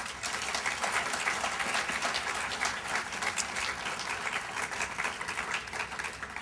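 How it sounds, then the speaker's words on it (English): An audience at a graduation ceremony applauds, a bright, dense wash of clapping that holds steady for several seconds with no speech. "Let's give parents a round of applause"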